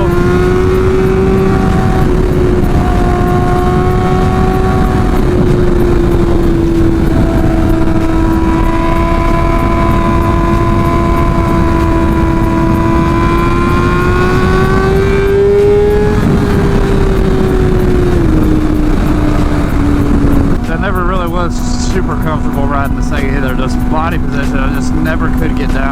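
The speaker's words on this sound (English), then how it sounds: "It is fun to wind this bike out though." A 2024 Kawasaki ZX6R sport motorcycle screams as it is ridden and wound out, its engine note climbing steadily and holding high under heavy wind rush, then dropping back to a lower drone at the end.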